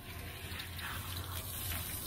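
Water hissing steadily from a hose-style shower spray nozzle while a grill is being rinsed clean, a continuous close-up rush with no talking.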